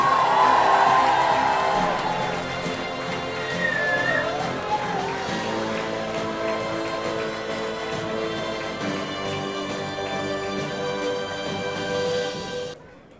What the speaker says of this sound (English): And the loudest of the last applause is for Varsha R.